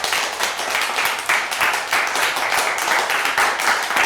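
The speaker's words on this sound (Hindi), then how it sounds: "जोरदार तालियों से धन्यवाद प्रेषित करते हुए सुखप्रीत" An audience at a kavi darbar poetry gathering gives a poet steady, dense applause, with many hands clapping continuously and evenly throughout.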